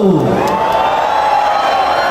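A festival crowd at the Obando dance celebration shouts and cheers loudly and continuously, a dense roar of massed voices with whoops rising above it.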